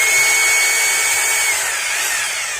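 Maktec MT870 rotary hammer switched to concrete drilling mode, faulty and not hammering, gives off a steady, loud high-pitched motor whine that runs continuously and alone with no impact rhythm.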